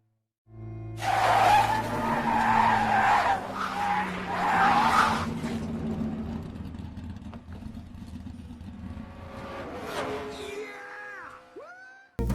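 A race car in the animated film Cars brakes hard and skids, with a loud sustained tire squeal and roaring engine that fade out over several seconds, followed by a few fainter screeches.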